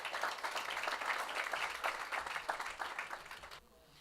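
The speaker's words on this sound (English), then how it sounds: "Give him a round of applause as he comes, please." A round of applause at a public schools scholarship awards ceremony for the Director of Education, brisk steady clapping from the audience that stops abruptly near the end.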